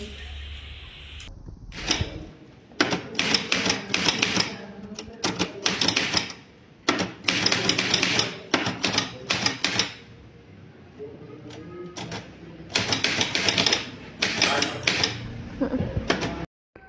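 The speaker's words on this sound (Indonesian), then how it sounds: "Sayuti, tolong Anda ketik proklamasi ini." A typewriter typing out the text of a proclamation in a reenactment of the Indonesian independence proclamation, rapid bursts of loud mechanical key strikes broken by short pauses, close by.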